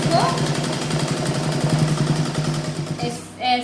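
Sewing machine stitching a double seam on a blouse, running as a steady close mechanical whirr with rapid needle rhythm that stops near the end, a voice briefly audible.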